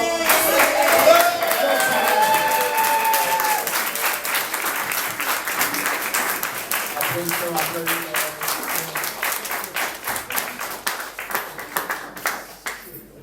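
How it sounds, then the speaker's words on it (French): A congregation stands and applauds the mothers at a church service, dense clapping filling the room and gradually thinning into more distinct individual claps, with voices and murmuring beneath. "il faut qu'on se lève tous pour les applaudir"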